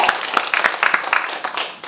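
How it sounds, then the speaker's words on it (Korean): A crowd applauds at a public hearing on a proposed undersea tunnel media art theme park, giving a short burst of scattered claps. A voice talks over the clapping. "박수 한번 해주시죠"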